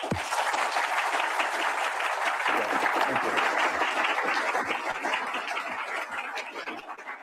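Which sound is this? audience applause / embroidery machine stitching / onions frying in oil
audience applause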